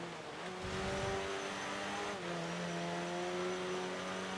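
Audi rally car engine roaring in Forza Horizon 2, a loud sustained rev with rising and falling pitch through a gear change, close and continuous, no talk.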